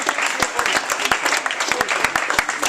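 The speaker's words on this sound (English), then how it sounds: "So can y'all give a round of applause for yourself?" An audience at a poetry performance breaks into applause, a dense patter of clapping with sharp individual claps standing out, sustained and fairly close throughout.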